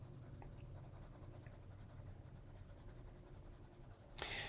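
Black Prismacolor colored pencil shading across paper for a stamped autumn lake scene, a steady soft scratchy scribble running throughout at close range, ending in a brief louder rustle.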